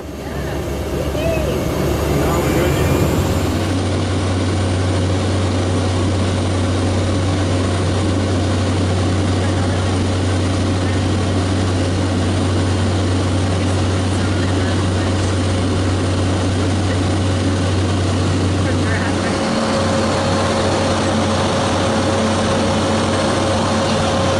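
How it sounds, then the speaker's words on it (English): Steady, loud drone of a small Cessna 206 single-engine propeller plane in flight over Botswana, heard from inside the cabin as a continuous engine hum with a constant low tone throughout. "and I got a little Cessna 206 all to myself."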